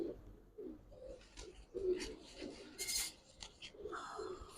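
Giribaz pigeons cooing nearby in a loft, several soft throaty coos in uneven bursts with brief scraping sounds between, fairly faint, no talk.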